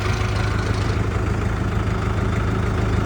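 Jinma 504 tractor engine idling nearby, a steady low diesel chug with constant vibration and no change in pace, loud and continuous with no talking.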